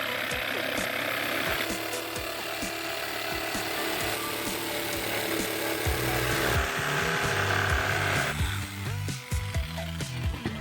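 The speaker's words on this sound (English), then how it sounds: "he can get the jigsaw into position, and hopefully we can cut this round, somewhat oval" A jigsaw cuts a rounded, oval piece of wooden flooring for a camper van build on a wobbly work table, a loud, steady buzzing saw rattle with the pitch dropping and rasping as the cut progresses.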